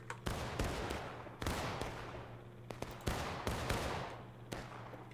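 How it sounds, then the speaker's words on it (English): Artillery and scattered gunfire in a Maryland Campaign battle game, with sharp booms and cracks going off at irregular intervals, some near and some farther off, each trailing a short rumble. "Oh, that's artillery."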